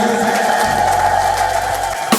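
A church congregation at a LEG International Church worship service claps and cheers, a dense, steady wash of hands and voices filling the room from start to finish.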